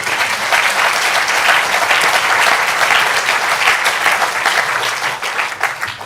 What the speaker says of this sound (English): Give them also an applause.